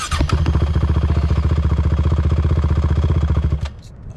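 A quad ATV engine revs steadily as the rider lets out the clutch, a loud close pulsing drone with rapid regular firing beats that holds for several seconds before cutting off abruptly.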